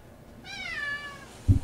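A cat gives a single clear, drawn-out meow in a quiet room, followed by a short low thump.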